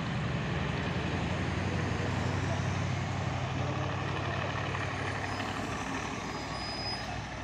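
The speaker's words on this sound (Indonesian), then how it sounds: "Oh, ada juga truk Hino Lohan TI." A Hino truck rumbles steadily with a low, continuous engine drone, heavy and close, accompanied by broadband road noise for the whole stretch.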